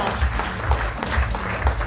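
Applause at a corporate function honouring a Siemens Limited guest, steady crowd clapping over a low rhythmic thump of background music, moderately loud and continuous.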